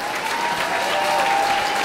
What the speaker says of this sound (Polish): Rafał Somowski, wielkie brawa.